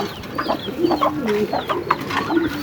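Pigeons come in to feed on freshly knife-chopped greens, giving soft overlapping coos and bird calls close by, fairly steady through the moment with no one talking.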